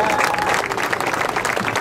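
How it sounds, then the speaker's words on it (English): Dense, steady applause fills a campaign kickoff rally in El Sereno, a loud crowd clapping continuously at close range throughout. "Big round of applause to all of our labor leaders that are here today and their representatives"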